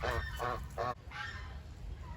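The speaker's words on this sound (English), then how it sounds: "These geese over here, we joined this morning." Thai geese honking in loud, close bursts, three quick nasal calls in a row followed by a longer call over farmyard background noise.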